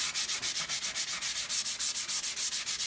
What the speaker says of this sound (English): And I'm going to finish with some 280 grit.